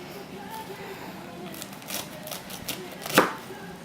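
Several crisp knife cuts crunch through lettuce on a board, slicing it into ribbons, ending in one sharper chop, with faint background room noise.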